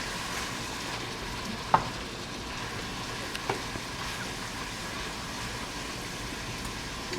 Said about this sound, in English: Let me just stir this up.